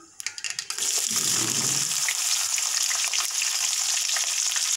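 Onions and green chillies drop into hot oil already holding mustard seeds and tempering spices for mango pulihora, a few light clinks giving way to a loud, steady sizzle that carries on alone.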